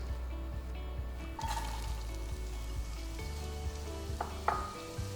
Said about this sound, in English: of oil to that decadent pool of rendered Chinese sausage fat. Turn it up a bit. Pop in the onions.